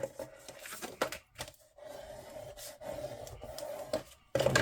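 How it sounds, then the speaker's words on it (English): Tool burnishing a folded paper crease, giving close, dry rubbing and scraping strokes in irregular short bursts with quiet gaps between. "so burnish that really well"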